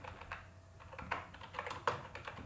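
Fingers type C code on a computer keyboard at close range, a quiet run of uneven key clicks with a few louder taps and small pauses, without voices.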